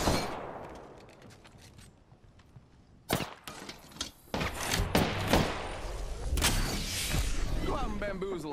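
Gunfire bursts in a video game, starting around three seconds in and continuing loud and dense amid clattering action, with impacts and footsteps-like knocks underneath.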